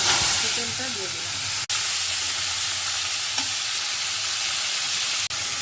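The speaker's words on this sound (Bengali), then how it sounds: "ম্যারিনেশন করে রাখা চিকেনটা দিয়ে দিলাম।" Marinated chicken hits hot white oil spiced with bay leaf, cinnamon and cardamom, giving a steady, close, even sizzle and hiss that runs the whole time, with two brief dropouts and no talking.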